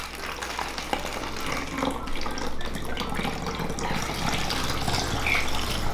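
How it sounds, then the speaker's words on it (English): Water is poured through a funnel into a bottle during a kids' air pressure science experiment, a continuous splashing trickle and gurgle, close and fairly loud, running steadily throughout without talk. "And then we're gonna get our water. Put our water in."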